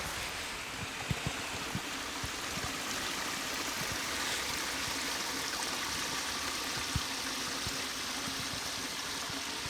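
Water flowing down a rocky ditch on a homestead, a continuous close rushing and babbling stream with no pauses or voices.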